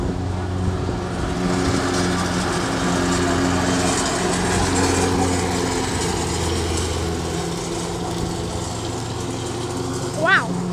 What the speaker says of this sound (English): That lawnmower is very effective.